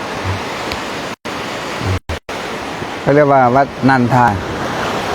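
Sea surf washes steadily against the shore beside a seaside temple at Thap Sakae, a constant rushing hiss broken by a few brief cuts, with someone talking over it in the second half.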